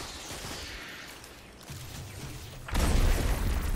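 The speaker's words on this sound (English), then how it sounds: "That's my grenade." A grenade explodes in the video game Destiny 2 with a sudden loud, broad blast that lingers as a rumbling roar after a stretch of quieter game noise.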